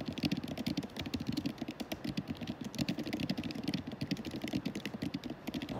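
Fast continuous typing on a computer keyboard during late-night novel writing, close rapid key clacks in a steady unbroken stream with no voices.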